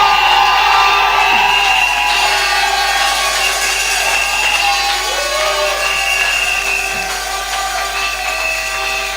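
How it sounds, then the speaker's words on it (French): A church congregation at a midday testimony service shouts and cheers in cries of joy and acclamation, a loud, sustained wall of crowd voices with shrill whoops and ululation throughout. "Est-ce que tu peux pousser les cris de joie et d'acclamation vers l'Éternel?"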